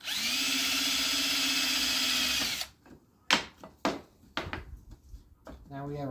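A handheld power drill whines steadily for about two and a half seconds while drilling a three-hole pattern, then stops, followed by several sharp knocks and handling clatter, and a person begins talking.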